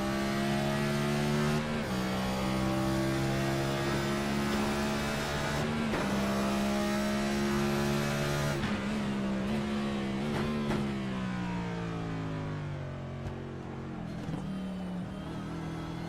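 A race car in the iNASCAR racing game at the Roval accelerates hard, its engine drone holding high and steady, then dipping briefly at shifts before pulling again, loud and continuous with no talk.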